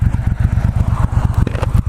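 A 2018 Triumph Bobber Black motorcycle pulls along on a ride, its engine giving a loud, close, rapid pulsing thump, with a brief clatter near the end.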